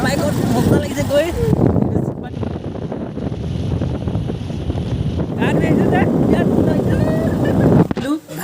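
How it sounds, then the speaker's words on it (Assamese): Riding two-up on a motorbike, with strong, continuous wind buffeting the microphone nearly throughout and people talking over it. "আমি গৈ আছোঁ এতিয়া বৰ্তমান বাইকত, মজা লাগিছে গৈ।"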